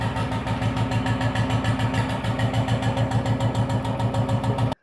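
A motorcycle fitted with an aftermarket exhaust silencer idles loudly and close, its engine throbbing steadily with a fast, even pulse before cutting off abruptly at the end.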